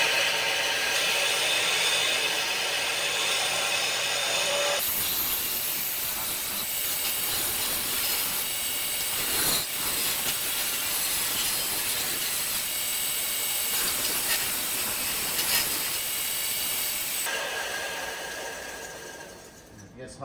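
A disc sander grinds steadily on the wooden body mounts for a Ford Model A, a continuous hissing whir that runs with a brief change in tone midway.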